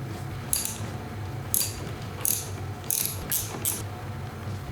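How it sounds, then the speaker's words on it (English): A ratchet works loose the rear suspension linkage bolts on a Honda CRF300L motorcycle, giving five short bursts of rapid clicking close by over a low background hum. "We'll need to undo some of these linkage bolts in here."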